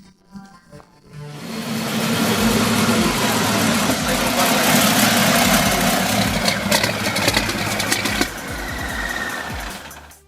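A restored 1932 hot rod with a roughly 300-horsepower, 11.5-liter gas engine idles loudly and steadily, a dense rumbling chatter that starts after a brief quiet moment and holds without a break.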